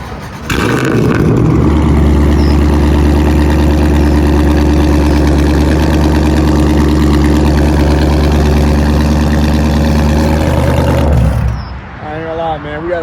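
An SRT Jeep fitted with catless mid pipes starts and settles into a loud, deep, throbbing idle, close and steady for about ten seconds before cutting off, with a voice talking afterward.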